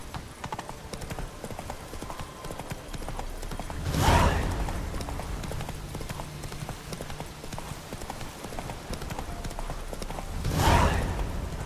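The horse Roach trotting in The Witcher 3 video game, a steady rhythmic clip-clop of hooves throughout with two louder swells, no talk over it.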